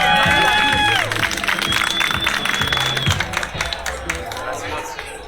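Crowd at a Fogata Freestyle rap battle final applauding and cheering for two rappers: dense, loud clapping with shouts and whistles that peak early and then thin out slightly.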